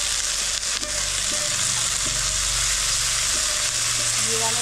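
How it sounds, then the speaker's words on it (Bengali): Washed lentils and broken rice sizzle in a hot pan while cooking khuder bhat, making a steady, close frying hiss with faint stirring taps underneath. "এবার এটাতে দিয়ে দেবো এই যে ডাল আর চাল ধুয়ে রেখেছি"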